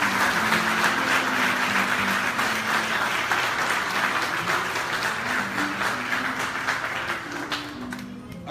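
A church congregation at a French-language service in New York applauds steadily, a dense sustained wash of clapping with some voices mixed in, fading slightly toward the end.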